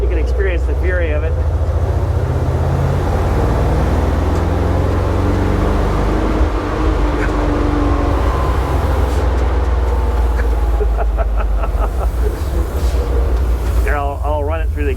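A big Dodge truck with air brakes roars under throttle, its heavy engine rumbling loud and steady up close while someone talks over the noise.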